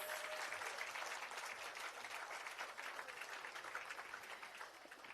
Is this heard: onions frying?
no